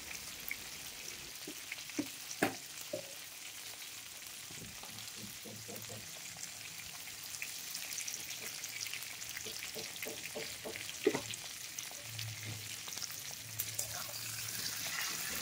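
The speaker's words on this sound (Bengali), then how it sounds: "মিডিয়াম ফ্লেমে রেখে পটলটিকে ভালো মতো ভেজে নেব" Pointed gourd (potol) fries in a pan over a medium flame with salt and a little turmeric, a quiet, steady sizzle dotted with soft pops and occasional light clinks of a utensil.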